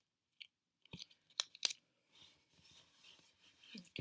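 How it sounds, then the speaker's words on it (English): Scissors snip through paper while trimming pieces for a handmade explosion box craft, a few sharp close cuts followed by softer rustling and handling noises, with no talk. "We're going to trim these other two a little bit as well."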